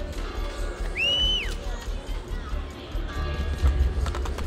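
Horse hooves clip-clop at a steady gallop in the video game Assassin's Creed Brotherhood, mixed with game music tones and ambient crowd noise, with someone talking in Russian over it.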